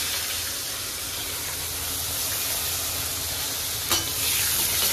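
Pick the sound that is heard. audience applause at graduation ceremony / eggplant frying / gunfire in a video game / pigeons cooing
eggplant frying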